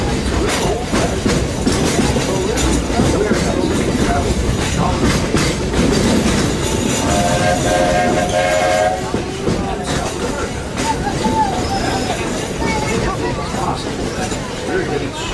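Steam locomotive of the Walt Disney World Railroad heard from aboard during a ride, with steady wheel clatter, rolling rumble and a brief whistle, while a narrator talks throughout.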